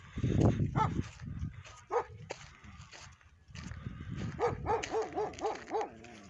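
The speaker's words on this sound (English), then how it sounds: "I can see this is a new camp with that dog barking at me" A dog at a new camp in Slab City barks repeatedly, with a rapid run of barks near the end, fairly close and moderately loud, with a few short whimpering notes in between.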